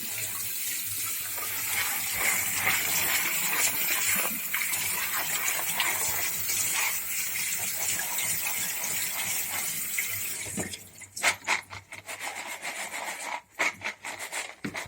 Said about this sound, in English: Quick rinse, and in they go. Same with the kidney beans.